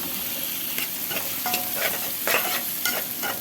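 Rice with yellow and red bell peppers being stirred in a hot pan, a steady sizzle with repeated scraping strokes of a utensil, close and clear with no talking.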